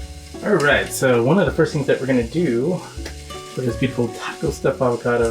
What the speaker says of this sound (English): You can hear it sizzling right now.